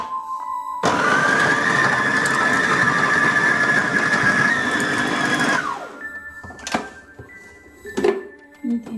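Electric mixer grinder whirring loudly for about five seconds as it blends minced beef with green chillies and ginger-garlic paste, then stopping, followed by a few clinks and light handling noises.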